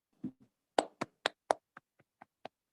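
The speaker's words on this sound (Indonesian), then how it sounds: "Tepuk tangan untuk semuanya setelah menjawab dengan benar" About nine separate sharp claps, spaced unevenly over a couple of seconds, fading toward the end; a sparse round of hand clapping in a teaching practice class, with no crowd roar.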